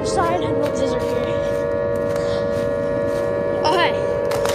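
A steady droning siren-like wail from the Siren Head monster in a video game, with a sustained hum underneath, rising briefly in pitch twice, loud and continuous.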